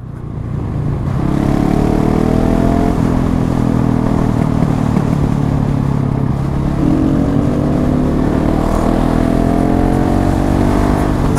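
A motorcycle's engine on a Swedish road climbs steadily in pitch as the bike accelerates to overtake a car. The roar is loud and continuous, with heavy wind noise underneath and no talking.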